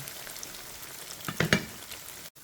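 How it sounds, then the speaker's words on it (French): Plantain slices for alloco frying gently in oil, with a quiet, steady sizzle and a couple of soft clinks near the middle. "Pendant que ma banane est en train de frire là gentiment"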